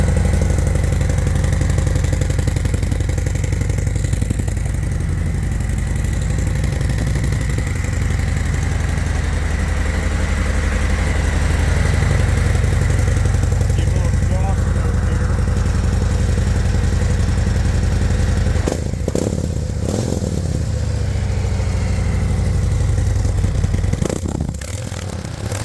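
Harley-Davidson CVO 2023 with a 121 engine and stock mufflers idling in neutral on a lift, a loud, steady low rumble with slight lumpy pulsing, close and continuous throughout.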